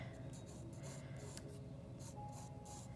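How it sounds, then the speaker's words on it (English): Pencil lines being erased on paper while drawing Notre Dame at night, a soft continuous rubbing and scrubbing with faint scratchy strokes, close and quiet throughout. "and then erase"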